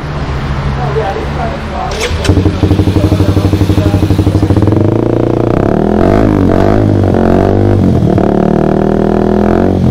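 A Honda CBR sport motorcycle with a newly fitted exhaust revving close by at a workshop, a loud rumbling idle rising into throttle blips and sustained revs with crackling, voices talking over it.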